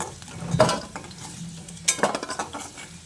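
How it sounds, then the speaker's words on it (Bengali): Fried taro is lifted out of a pan with a metal utensil. Two sharp clinks against the pan are followed by a quick run of scraping knocks over a faint sizzle. "এবার এই কচুটাকে আমি তুলে নিচ্ছি।"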